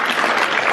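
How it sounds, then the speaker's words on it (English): Audience applause for a volunteer who has just come up on stage at a talk: a dense, steady wash of clapping from a crowd, brief and evenly sustained with no voices over it. "let's just give her a little round of applause"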